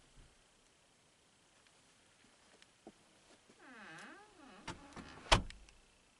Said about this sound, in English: Listen to the room and then listen to it when I close the door.